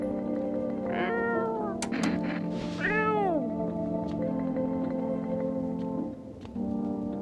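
A cat in the video game No I'm Not A Human meows twice in clear, drawn-out rising and falling calls over a steady electronic hum, close and fairly loud, without speech.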